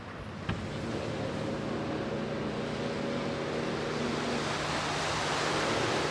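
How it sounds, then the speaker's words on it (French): Ocean waves breaking along a beach, heard as a steady, full roar of surf with a sharp thump near the start and a faint low hum underneath. "franchir la fameuse barre de vagues qui longe la plage"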